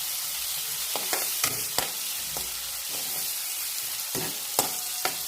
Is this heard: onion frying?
yes